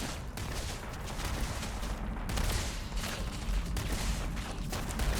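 Sustained gunfire from a gun emplacement turret in the video game Starfield, a dense, continuous rattle of shots at steady loudness throughout, with no talk over it.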